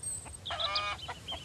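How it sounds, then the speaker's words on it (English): A chicken in the survival game Mist Survival clucks inside a barn in a short run of brisk, mid-distance calls, fairly quiet and heard alone. "A chicken is calling me a chicken."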